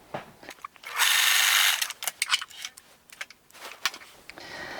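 A sewing machine zigzag-stitches the raw edge of a T-shirt, giving a loud, steady mechanical whir of under a second, followed by irregular clicks and rattles from the machine.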